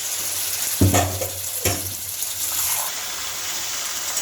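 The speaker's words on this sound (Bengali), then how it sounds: "এবার আমি এঁচড়ে সেদ্ধ করা জলটা একটু দিয়ে দিলাম, দিয়ে ভালো করে করবো।" Jackfruit cooking water is poured into a sizzling prawn curry in a pan, giving two sharp splashing bursts followed by a steady close frying hiss.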